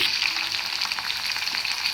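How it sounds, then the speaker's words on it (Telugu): Onion and green chilli pieces fry in hot peanut oil with a bright, steady crackling sizzle, close and continuous for a couple of seconds, with no voices. "ఇప్పుడైతే పచ్చిమిరపకాయ ముక్కలు ఉల్లిపాయ ముక్కలు వేసేసుకున్నాము"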